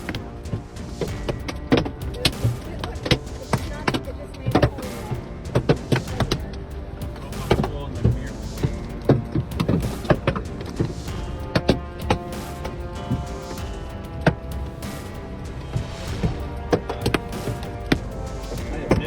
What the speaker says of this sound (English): Terrifying hail smashed car windows, devastating the streets of Des Moines like a bombardment falling from the sky.